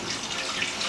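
Water from a tap poured into a pot, about four cups, for making chicken and dumplings; a steady, close, continuous rushing splash with no talk.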